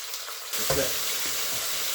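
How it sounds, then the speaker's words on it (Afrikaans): Flattened, seasoned beef strips hit a hot pan and sizzle steadily, a close, loud frying hiss with a brief stirring clatter partway through. "En dan by hierdie eie het ek sulke vleis strippietjies gekry. Wat ek net alles van saam braai."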